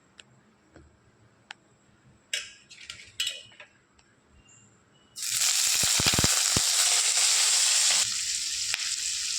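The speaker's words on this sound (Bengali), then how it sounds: "তেল দিয়ে এবার পেঁয়াজটা আর ক্যাপসিকামটা দিয়ে দেবো।" Onion and capsicum hit hot oil in a kadai, erupting into a loud, steady sizzle after several seconds of quiet clinks and ticks of utensils, with spoon scrapes over the frying.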